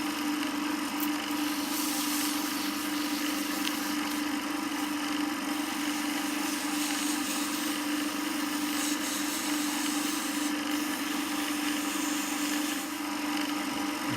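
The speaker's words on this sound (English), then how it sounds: "this is our final sanding with normal paper" Steady, continuous rasping of sandpaper rubbed over a CA glue finish, close and even throughout, with a faint hum underneath.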